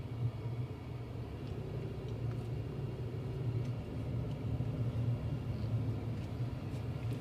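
A car creeps slowly along a winding mountain road toward a hilltop hotel in Jamaica, its engine a steady low rumble that holds at an even level throughout, with no voices.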